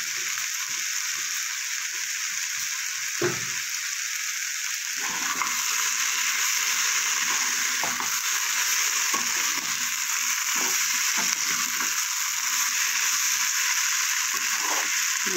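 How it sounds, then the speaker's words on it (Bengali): Potatoes, eggplant and mustard are stirred in a frying pan, with a constant loud sizzle and repeated scraping strokes of a spatула against the pan. "আলু বেগুন আর সরষেটা ভালো করে মিশিয়ে নেবো"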